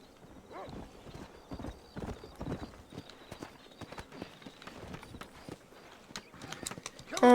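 Steady clip-clop of horse hooves trotting along in Red Dead Redemption, with a whinny near the end; no talking, just the hoofbeats and the horse.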